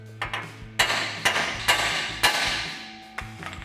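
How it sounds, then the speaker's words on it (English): A hammer strikes the steel steering knuckle on a 2014-2020 Ford F-150 during a suspension lift install, four sharp metallic blows with ringing decay, spaced about half a second apart, followed by a lighter knock and clatter. "we can take a hammer and strike the side of the knuckle here to pop our ball joint loose"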